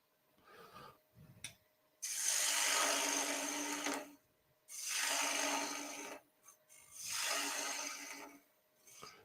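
A lathe gouge cuts into a spinning wooden bowl near its center in three long, loud, rough scraping passes separated by short quiet gaps.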